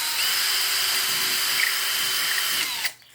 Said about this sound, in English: So what I've done is drilled extra holes in these.